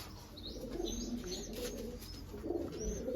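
Several pigeons coo softly and repeatedly at a moderate distance, with a few faint chirps mixed in against a quiet background.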